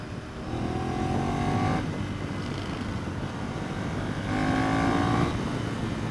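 A Ducati Monster 659 motorcycle engine revs steadily at moderate distance, a fairly quiet, continuous drone with two rising pulls as it accelerates.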